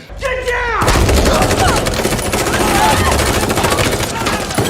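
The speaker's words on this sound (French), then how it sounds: "Negan, Daryl, Carol et les autres se font canarder par le haut. Ça tire de partout le gros bordel" Loud, dense gunfire from a The Walking Dead scene at the Commonwealth, rapid overlapping shots from many guns, following a brief whistling or whining sound at the start.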